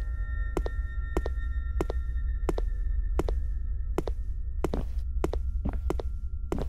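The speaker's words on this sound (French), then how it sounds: "J'entends du bruit de pas." Footsteps in the Kuchisake Onna horror video game, a slow, evenly spaced series of heavy thuds, about eleven steps, over a constant low ambient hum.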